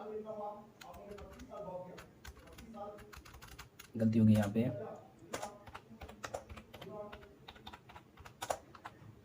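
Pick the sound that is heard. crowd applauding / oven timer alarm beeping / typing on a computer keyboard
typing on a computer keyboard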